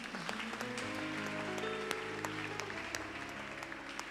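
A church congregation claps in praise of the Lord Jesus, quick scattered claps over sustained keyboard-like musical tones, moderately faint and steady throughout.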